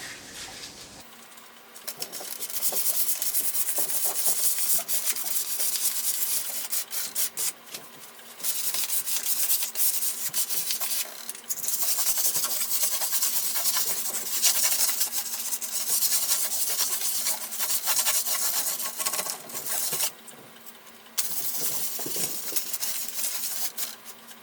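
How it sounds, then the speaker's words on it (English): A wood trunk floor for an 8th-generation Honda Accord is hand-sanded with 400-grit sandpaper, making close, steady rasping strokes in long sustained bursts with brief pauses between passes and no speech. "So now I gotta sand this down, and this is 400 grits."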